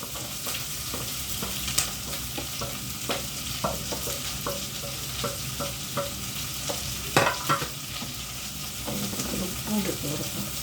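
Onion and coconut pieces fry and sizzle in a pan for a prawn curry, with a steady hiss under repeated scraping and clinking strokes of a spoon stirring, fairly quiet and close.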